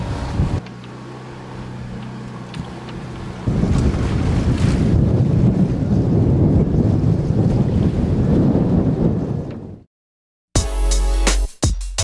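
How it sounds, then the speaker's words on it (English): Strong wind roars across a sailboat motoring through an acceleration zone at sea off La Gomera, a loud steady rush with water noise that swells midway, then a brief break before buffeting gusts hit the microphone. "the wind went up to 20 knots"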